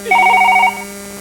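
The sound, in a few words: telephone ringing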